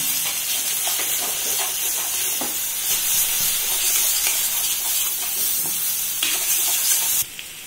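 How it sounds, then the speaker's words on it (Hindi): Soy keema with coriander powder and turmeric being mixed in a pan over a steady loud hiss of frying, with faint spoon scrapes underneath and a sudden drop in level near the end. "इसको अच्छे से मिक्स कर लेंगे"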